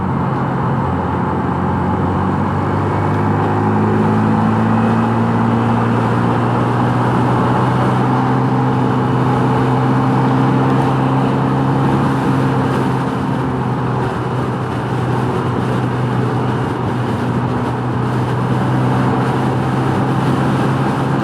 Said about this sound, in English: Run the NAVI on the highway for a mile.